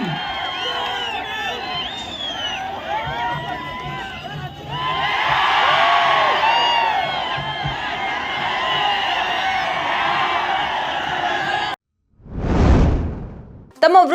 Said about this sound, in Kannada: ಜೋರಾದ ಚಪ್ಪಾಳೆ ಬರಬೇಕು ನಮ್ಮ ರಚುಗಾಗಿ